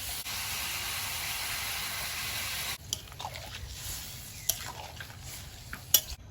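Water hits a hot pan of dried fish, brinjal and beans, bursting into a loud steady hiss that cuts off abruptly, followed by quieter bubbling, scraping and a few sharp clanks.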